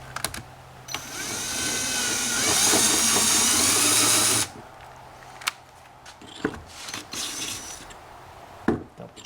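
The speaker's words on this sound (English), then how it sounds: "Now we can go ahead and drill the rear hole." A power drill bores the rear mounting hole in the hull of a Yamaha FXHO WaveRunner being rigged for fishing, one loud steady whine lasting about four seconds, then stopping, followed by scattered clicks and handling noises.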